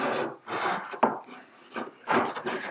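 Hand saw cutting fret slots into a wooden fretboard with a depth-stop jig, a few close rasping strokes with short pauses between them, quiet and alone.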